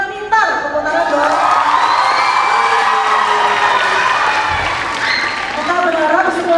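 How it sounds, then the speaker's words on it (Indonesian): A crowd at a high school's 61st anniversary Eucharist celebration applauds and cheers, with whoops and children's shouts mixed into sustained clapping and voices rising over the noise throughout. "tepuk tangan dong"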